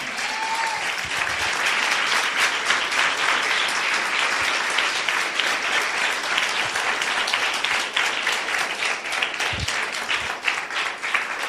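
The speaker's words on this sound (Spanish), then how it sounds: "Si le crees, dale un aplauso con todas tus fuerzas." A church congregation applauding hard at a year-end service, sustained loud clapping that fills the whole stretch, with faint scattered voices underneath.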